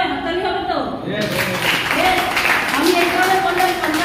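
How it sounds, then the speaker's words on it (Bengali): A seminar audience breaks into applause at a Vestige event, steady clapping that swells and carries on beneath a speaking voice throughout. "তাহলে কি হবে, হাততালি হবে তো?"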